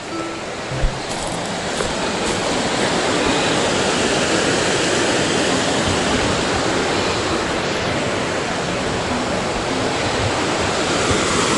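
A river rushes beside a backpacking trail, a steady, loud, broadband roar of flowing water that fills the scene without break.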